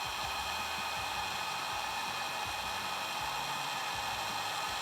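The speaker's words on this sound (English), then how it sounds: "put the heat gun on low." A heat gun running on its low setting gives off a steady, close, unbroken blowing roar with no talk over it.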